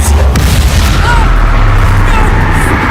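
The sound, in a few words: Bombarda explosion spell cast in Hogwarts Legacy video game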